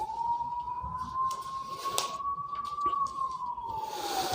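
Warning siren sounded before blasting at a road construction site, a steady sustained wail that rises slightly and then falls, heard continuously at a moderate distance over faint background noise.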